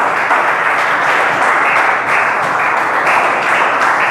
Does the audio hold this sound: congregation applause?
yes